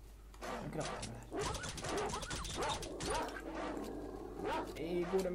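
A dog barks and whimpers in the video game S.T.A.L.K.E.R.: Shadow of Chernobyl, with several sharp yips and barks in quick succession over a persistent low hum.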